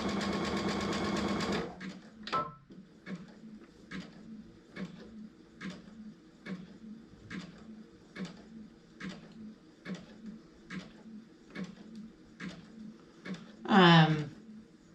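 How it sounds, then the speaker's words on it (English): A sewing machine back stitching a tote bag handle gives off a slow, steady series of soft mechanical stitch clicks, with a brief louder whir at the start and a short sound near the end. "I could bake bread as long as this back stitching takes on this machine."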